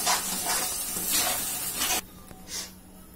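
Steady sizzling and bubbling of tomato paste cooking in a pan, with soft stirring scrapes, then a quieter simmer toward the end.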